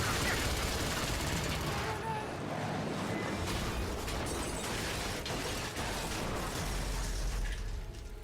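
Gunfire from the video game Rise of the Tomb Raider: a dense, continuous barrage of shots and bursts that stays loud throughout, mixed with game noise and voices talking over it.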